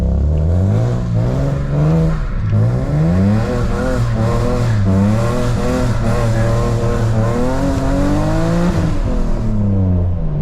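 A loud BMW E46 engine revs and wails through rising and falling pitches while street drifting in the rain, exhaust roaring continuously up close.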